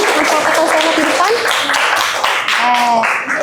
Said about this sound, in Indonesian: semuanya tepuk tangan untuk teman kita yang sudah berani mempraktikkan sholat di depan